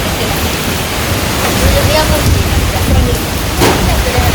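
Village rain falling steadily, a loud dense hiss of drops filling the whole stretch with no pauses, close and enveloping.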